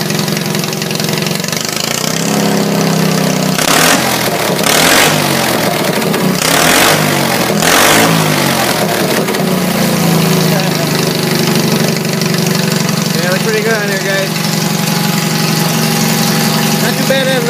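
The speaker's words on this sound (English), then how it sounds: "Brandon, sounds just like the Farmall H." A 1969 Sears SS12 garden tractor engine fitted with a straight stack runs steadily and loud throughout, a low rumbling drone with brief revving surges, while people talk over it.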